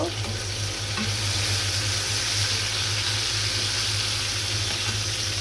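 Shrimp sizzling and being stirred with red amaranth greens in a hot pan, a steady close frying crackle throughout with no talk.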